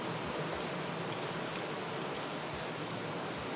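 Steady, dense rain from a storm in Venice, a constant hiss of drops falling on surfaces, recorded at moderate distance with no voices.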